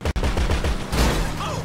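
Gunfire in GTA 5 Online during a heist with police involved, rapid repeated shots in quick bursts, loud and close, with a voice talking briefly.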